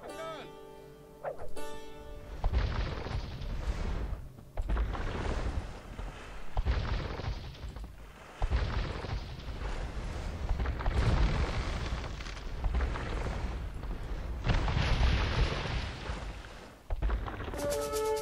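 Buildings are destroyed in the video game Age of Empires II HD, a dense, continuous roar of crumbling and booming impacts that swells and drops in waves, loud and close, with a few short breaks between bursts.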